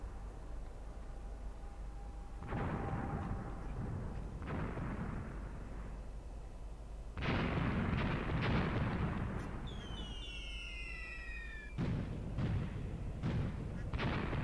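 Mortar shelling in the World War II tactics game Graviteam Tactics, set around Kharkov in 1942, comes as repeated deep booms and rumbling blasts at varying distances, with a descending whistle among them and no talking.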